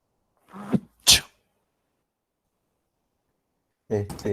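A single sharp sneeze bursts out close by, with a short breathy intake just before it, then a few seconds of silence before someone starts speaking.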